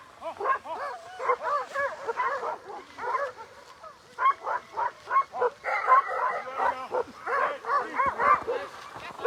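Sled dogs at the Tolsona Lake checkpoint during the Copper Basin race in -40F cold howl, yip and bark in a chorus of repeated, wavering cries, close and loud, with short lulls between bursts.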